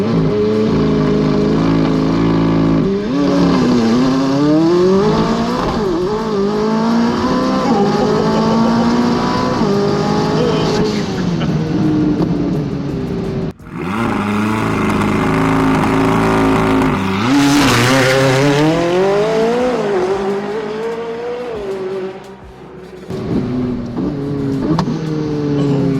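A supercar engine revving hard and accelerating, loud and close, with rising and falling pitch sweeps, a sudden cut-off midway, a sharp high-pitched blast, then more revving, and faint crowd noise beneath.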